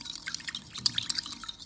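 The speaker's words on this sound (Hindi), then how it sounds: "अब मैं इसे अच्छे से मिक्स कर लूँगी।" Listerine, vinegar and salt are stirred into water, giving light irregular liquid sloshes and small drips close by, with no talking.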